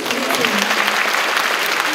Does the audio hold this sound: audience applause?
yes